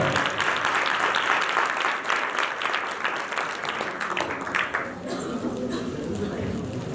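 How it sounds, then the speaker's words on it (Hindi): A congregation at a Christian deliverance service claps loudly and steadily for about five seconds, then the applause thins out and fades as a voice speaks over it. "अपने लिए तालियां बजा दें, अपने लिए तालियां बजा"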